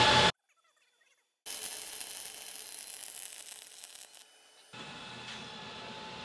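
ESAB Rebel EM 235 MIG welder running flux-cored wire at 400 inches per minute and 27.5 volts, a loud steady crackling sizzle lasting several seconds after a brief pause, then dropping to a lower hiss near the end.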